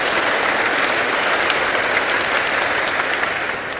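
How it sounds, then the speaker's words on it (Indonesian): A church congregation gives parents, guardians and catechists a round of applause, with dense, steady clapping from a large crowd that fills the space evenly and fades slightly at the end. "Tepuk tangan untuk orang tua,"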